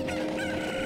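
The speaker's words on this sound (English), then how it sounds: "Hello, you must be a cuckoo." A cucco chicken clucks in The Legend of Zelda: Ocarina of Time, a short, close, clear burst of bird clucking on its own.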